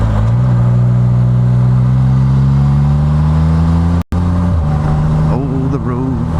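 A car rolls along beside a motorcycle on an open road. Its steady engine hum and tire roar sit close and loud, blended with wind rush, and a voice talks over part of it.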